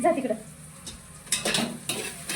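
Onion, tomato and masala roast in a pan. Short bursts of sizzling and stirring scrapes with metallic clinks come close and fairly loud over a brief moment.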